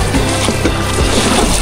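A rowing boat in the Daugava river race rocks through choppy water, with a continuous loud sloshing and wash of waves and wind close by, dense and steady for under two seconds.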